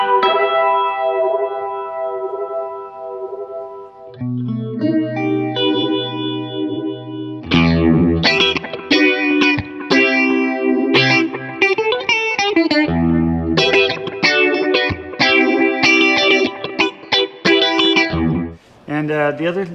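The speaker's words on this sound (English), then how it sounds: "I'm pushing this button in, which doubles the stages of phase from 4 to 8." Guitar run through an MXR Deep Phase phaser pedal set to eight stages, sweeping swirly tone over sustained chords, then busier distorted strummed riffs, loud and alone with no talking.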